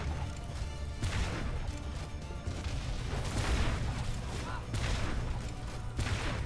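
Dense, continuous enemy gunfire and impact crashes fill the fantasy tower-defense game Orcs Must Die 2, a steady chaotic barrage of shots and bursts with no pauses.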